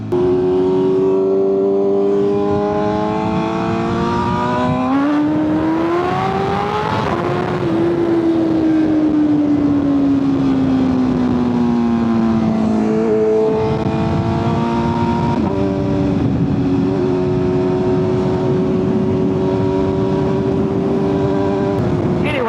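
A BMW M1000RR motorcycle fitted with a loud aftermarket exhaust snarls through a string of downshifts, its engine note stepping up and falling in sharp revving bursts, close and loud over steady road noise.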